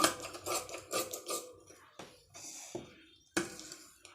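Scissors snip through blouse fabric in a tailoring session, a quick run of crisp cuts followed by a few spaced, separate snips, close and clear with no talking.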